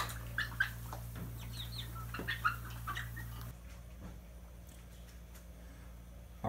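Farm chickens nearly big enough for butchering cluck softly in scattered, irregular bursts over a steady low hum, faint and somewhat distant, fading to near quiet after a few seconds.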